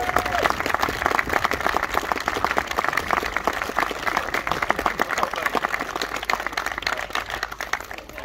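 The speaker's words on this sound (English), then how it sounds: "big round of applause for Western Park Country Fairs and Nations" Audience applause for Western Park Country Fairs and Nations at a world championship shooting event, a dense steady crackle of many hands clapping throughout, fairly close and loud, with a few voices mixed in.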